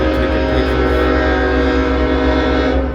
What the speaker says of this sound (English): Eastbound stack train.